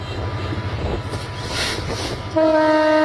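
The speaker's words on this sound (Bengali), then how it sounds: "আর একটি ট্রেন অন্য একটা স্টেশনে ক্রস করে চলে যাচ্ছে" A Bangladesh Railway train rumbles past another train at a station crossing with rhythmic clatter, then a loud, sustained horn blares near the end.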